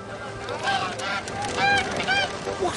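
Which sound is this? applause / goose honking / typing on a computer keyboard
goose honking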